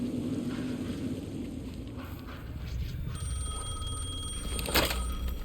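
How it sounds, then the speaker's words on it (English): Telephone in the video game Alan Wake 2 rings with a sustained electronic bell tone over low ambient rumble and game atmosphere, with a brief sharper burst near the end. "The phone again."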